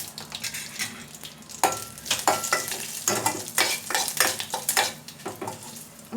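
Curry leaves and a pinch of turmeric crackle and sizzle in hot tempering oil for peanut chutney, with scattered sharp pops and spatters over a steady frying hiss, close and fairly loud, no talking.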